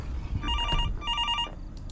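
Two warbling trills of a ringing phone, from the horror game Fears to Fathom: Norwood Hitchhike, come in quick succession over a low rumbling background, with faint clatter between them.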